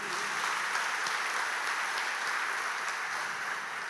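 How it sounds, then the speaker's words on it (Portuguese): Church congregation applauding during a sermon, a loud, even wash of clapping that holds steady throughout, with no clear speech over it. "Você pode dizer amém e aplaudir Jesus mais uma vez?"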